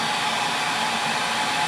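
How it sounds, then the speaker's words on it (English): Steady, continuous whir of a hair dryer on a low setting curing silicone, a constant airy drone with no breaks, close by. "Just using a hairdryer on low."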